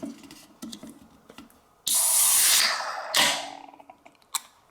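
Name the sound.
Pepsi Nitro being hard-poured and foaming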